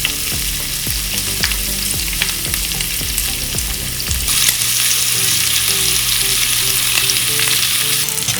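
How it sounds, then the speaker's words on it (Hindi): Chopped onions roast in a hot pan over raised heat, giving a steady loud sizzle with stirring scrapes in the first half, then an even frying hiss for the rest, with no talking. "मुझे प्याज को पकाना नहीं है, बस थोड़ा सा रोस्ट करना है।"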